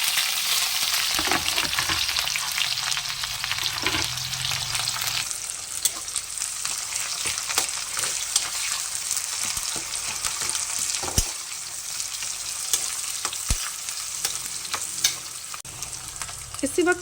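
Onions and green chillies fry in a hot spice tempering with bay leaf and red chillies, a steady loud sizzle over about seventeen seconds, broken now and then by the scrape of stirring, with no talk.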